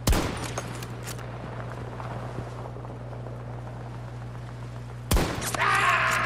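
Sniper rifle fire in a video game: a sharp loud shot opens, a few more brief cracks follow, steady low hum underneath, then another loud blast near the end with a bright rising tone.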